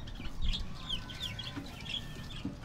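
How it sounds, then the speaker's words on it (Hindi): Pet chickens and roosters cluck in a short series of close, bright calls over a low background rumble, with no talking. "ये रे हमारे मुर्गे"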